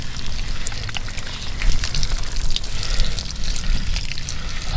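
Water from a camping shower head pours and splashes in a steady close stream, with irregular drips and spatters, no voices.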